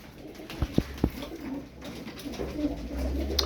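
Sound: pigeon cooing

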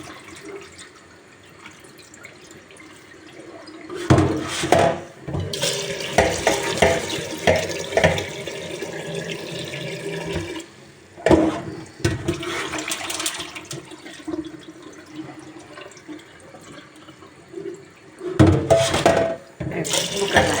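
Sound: washing lentils under running tap water

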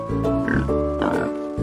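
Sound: pig oinking

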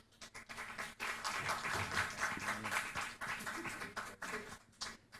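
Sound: audience applauding a speaker

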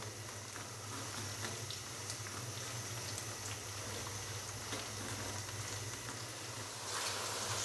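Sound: okra frying in a pan

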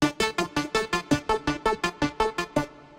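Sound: synthesizer solo with resonant filters, Oberheim-style

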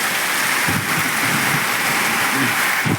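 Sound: heavy monsoon rain falling

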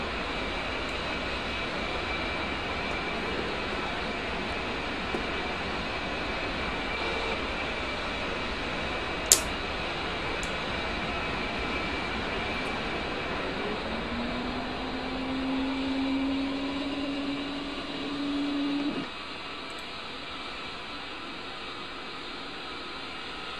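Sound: left engine of combat aircraft in DCS World flight simulator game

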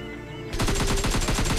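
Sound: gunfire in the video game PUBG Mobile Lite

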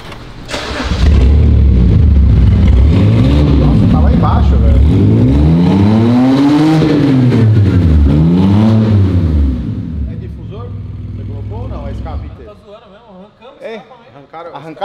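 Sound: small car engine revving

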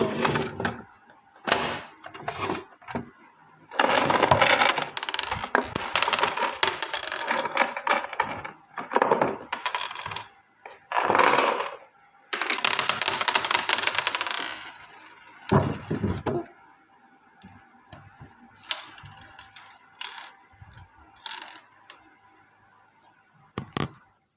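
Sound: coins dropping out of a toy cat coin bank

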